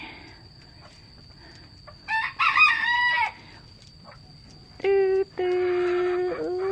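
Chickens on a farm cluck and a rooster crows close by, two drawn-out crows with a pause between them over faint background clucking and a steady hum.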